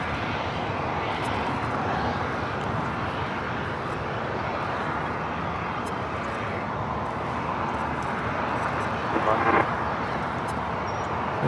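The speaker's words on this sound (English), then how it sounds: "Singapore flight 11 preparing for takeoff on the north side" A Boeing 777-300ER jet takes off at LAX with a steady, broad engine roar that holds at a constant level throughout, with a brief louder swell near the end and some talk over it.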